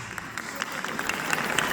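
Faint, brief clapping from an audience during a Republic Day speech at a school, scattered quick claps at a distance that thicken toward the end.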